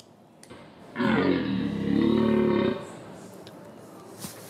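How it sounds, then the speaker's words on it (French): A Corsican red deer stag gives a rutting call, one deep, loud, sustained roaring bellow of nearly two seconds that rises out of quiet surroundings and then fades. "chaque animal a son propre appel de rut. Alors ça peut être très viril, comme chez le cerf de Corse"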